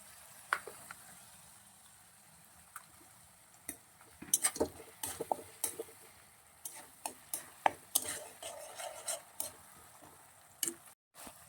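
Onion paste and tomato paste get stirred in a pan: irregular scraping and clinking of a spoon against the pan, with a faint sizzle underneath and clusters of sharp taps through the middle.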